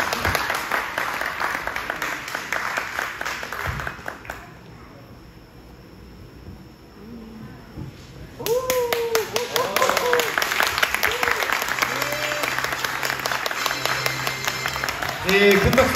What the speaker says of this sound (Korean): 박수로 맞이해주시기 바랍니다.